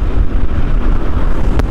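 Strong, steady wind buffeting the microphone while riding a Yamaha XMAX scooter on a road, a continuous loud low roar with no clear voices.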